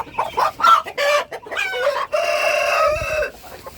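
Native chickens clucking and a rooster crowing: several quick clucks and squawks, then one long drawn-out crow, loud and close with no talk.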